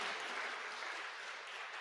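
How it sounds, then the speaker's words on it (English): Sustained applause from an audience at a community engagement forum, a dense, even wash of many hands clapping that holds steady throughout without a break. "Let's give it a round of applause."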